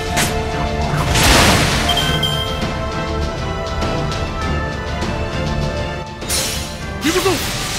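Loud crashing blasts and booming impacts from Spartacus's explosion attack in Fate/Grand Order burst over a dense, busy battle soundscape, with a Japanese voice speaking in the mix.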